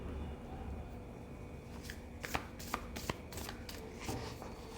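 Tarot cards are shuffled by hand in a quiet room: a soft riffling rustle builds, then several sharp, crisp card snaps and flicks stand out clearly in the middle before settling back into gentle shuffling.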